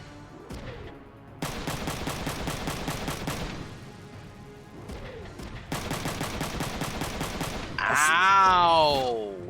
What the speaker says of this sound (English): just machine gun him